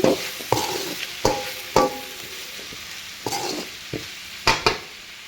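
A spatula scrapes and stirs vegetable palya with garam masala in a frying pan. Roughly eight distinct close strokes come at an uneven rhythm over a light sizzle, with no talking.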